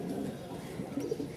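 Small high-flying giribaj pigeons at a market in Mirpur-1, Dhaka, give a short burst of soft, low cooing, faint and close, with no clear talk.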